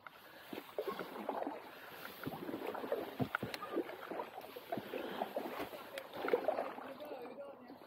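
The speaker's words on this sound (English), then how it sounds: "So the first paddle of the year." A boat is paddled along a canal in cold weather, with soft splashes and water swishes at a gentle, irregular rhythm, close by, and people talking quietly over them.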